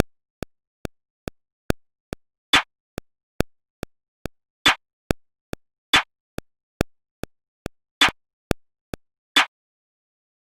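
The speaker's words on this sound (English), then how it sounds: "So I'm gonna get 2 hi-hats, a kick, and a snare." A sparse electronic drill beat made on an MPC Live: evenly ticking hi-hat clicks with a crisp snare landing every few beats, steady and dry, no voices.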